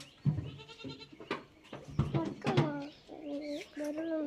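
A young goat gives several close, wavering bleats, some overlapping, with a little background voice and bird-like chirps.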